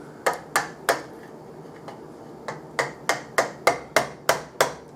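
A chisel being struck to clean up a wooden coffin plane, a series of sharp, close tapping knocks, first irregular and then settling into a steady rhythm of about a dozen crisp hits.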